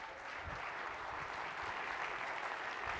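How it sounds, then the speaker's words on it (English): An audience applauds a rally captain at a church-style event, a dense, steady wash of clapping that holds at even loudness throughout. "Let's give Blake a round of applause."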